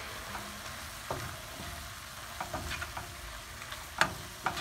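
Vegetables for a breakfast scramble sizzle in a pan while a utensil stirs them, giving a soft frying hiss broken by scattered scrapes and clacks, the louder ones near the end.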